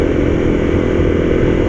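A Honda CRF250L motorcycle engine cruises in top gear at about 80 km/h, a steady, fairly loud, slightly revvy drone with no change in pitch over the short stretch.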